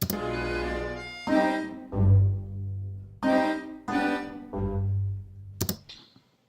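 Plucked pizzicato strings play short phrases in an orchestral score, with low sustained tones underneath and a few pauses between bursts.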